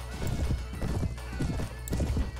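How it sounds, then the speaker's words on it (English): Horse hooves gallop in Mount and Blade Warband, a rapid, steady clip-clop rhythm of close, loud hoofbeats repeating throughout, with a faint neigh mixed in. "I think my horse might be hurt too."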